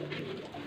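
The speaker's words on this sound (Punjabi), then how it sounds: "ਬਾਕੀ ਜਨਾਬ ਆ ਸਿਆਲਕੋਟੀ ਕਬੂਤਰ" Sialkoti pigeons cooing in a low, steady hum at close range, a brief continuous burst from birds kept for sale, with no talk over it.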